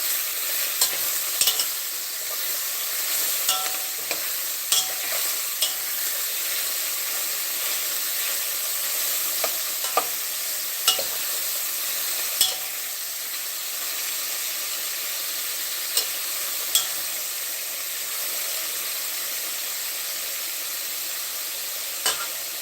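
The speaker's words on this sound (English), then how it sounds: "now I better get stirring the beef" Beef mince sizzles and fries in a pan for mince and tatties, a steady bright hiss broken by repeated sharp scrapes and taps of a utensil stirring the meat.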